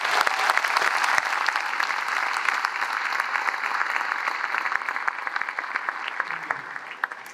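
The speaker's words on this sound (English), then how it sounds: "So let's give them a round of applause for their efforts." Audience applause at a school ribbon cutting and dedication ceremony for a new high school, a steady, full crowd clapping that carries on for several seconds and tapers slightly at the end.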